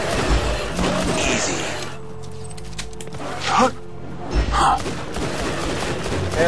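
Pistol shots in the video game Borderlands 2, several sharp bursts scattered over chaotic game noise, with quieter stretches between shots and faint background sound.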